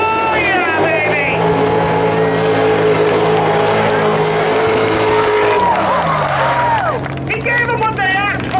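A car does a burnout at Hudson Speedway spectator drags, its engine holding a loud, sustained high roar that swells and shifts pitch as the tires spin, with people talking and cheering over it.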